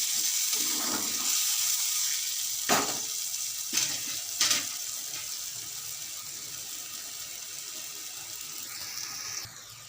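A pan of tamarind gravy with salt bubbles and hisses steadily, with a few clinks of a spoon or utensil scattered through it.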